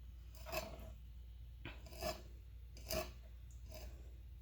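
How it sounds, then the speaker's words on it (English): Quiet rasping scrapes, three or four separate strokes of a knife grating along northern pike bones, over a low steady hum. "you can hear your knife running along the bones."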